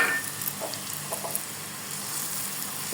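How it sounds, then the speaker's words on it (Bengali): Cheese masala ingredients fry in a pan with a steady, soft sizzle and faint crackles, continuous and fairly quiet throughout with no voices. "এটা ভাজা হোক, লাল করে ভেজে নিতে হবে"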